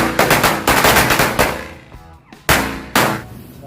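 A Corsairs LT666 KTP firecracker string bursts in rapid, loud cracks like a machine gun, dies into a short lull, then fires two more sharp volleys.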